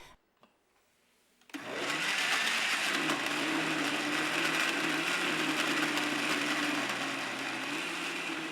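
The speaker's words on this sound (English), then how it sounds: "Now blend everything together until you have a well-mixed liquid paste." A kitchen blender whirs to life after a brief quiet moment, blending curry paste ingredients with a quarter cup of water into a liquid paste, then runs loud and steady with a grinding motor hum until the end.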